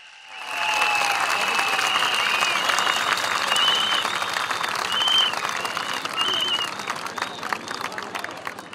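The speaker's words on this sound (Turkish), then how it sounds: "Bir alkış alalım bakalım bütünüyle." A large crowd at an outdoor political rally claps loudly and continuously, with whistles rising above the sustained applause and voices mixed in.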